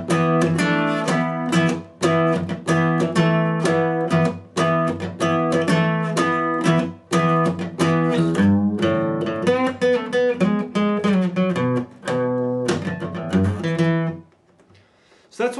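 Fast picked guitar lick played at roll speed, a rapid run of bright plucked notes with brief pauses between phrases, loud and close, ending in a fading final note.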